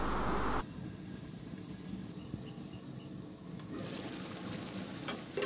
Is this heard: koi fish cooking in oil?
yes